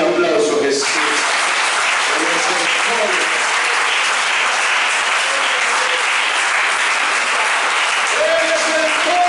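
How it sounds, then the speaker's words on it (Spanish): Loud, sustained applause from a church congregation at a Spanish-language sermon, a dense wash of clapping that runs the whole stretch, with a voice speaking briefly at the start and end. "Denle un aplauso a Jesús."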